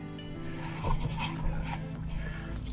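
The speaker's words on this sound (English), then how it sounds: "It's called tile scrubber, or grout scrubber" A grout scrubber rubbing over a herringbone tile backsplash, giving a steady close rasping scrub with a few louder strokes and no talk.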